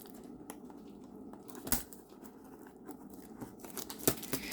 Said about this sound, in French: c'est enveloppé dans un plastique transparent comme ça que je vais ouvrir